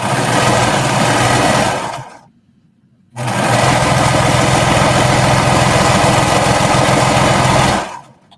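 A sewing machine runs a long continuous seam down a knit skater dress, steady and close, stopping for about a second before running again for several more seconds.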